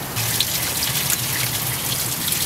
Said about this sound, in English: Push the radiator flush.